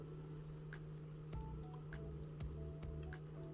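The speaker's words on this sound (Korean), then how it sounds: "졸졸졸 물 흐르는 소리도 어느 정도 들리고 있습니다" Quiet, irregular drips and small gurgles of trickling water inside a humidifier over a steady low mechanical hum, heard up close.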